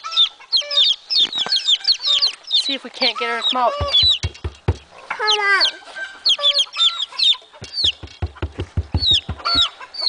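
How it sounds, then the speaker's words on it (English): In a chicken pen, a mother hen clucks among a flurry of high, shrill chick peeps, busy and close, while a person speaks softly in between. "You can hear that mama clucking in there too."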